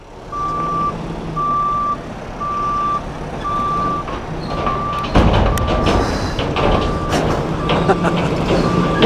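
A truck's reversing alarm beeps steadily at a regular rhythm on a building site, with engine rumble and clattering noise building partway through; voices talk faintly underneath.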